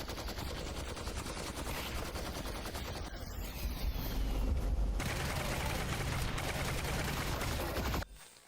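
Heavy gunner firing in Half-Life: Alyx, a sustained loud burst of rapid automatic fire lasting several seconds before cutting off abruptly near the end.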